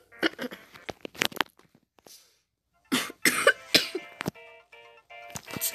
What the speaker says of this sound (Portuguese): Desculpa, galera, a tosse.